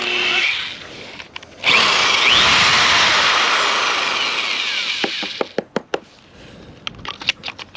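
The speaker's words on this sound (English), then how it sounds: "That was 1 1/4 inch hole saw." A 1 1/4 inch hole saw on a power drill bores loudly through wood for a porch extension, a steady grinding roar that stops and gives way to several sharp knocks and clatters.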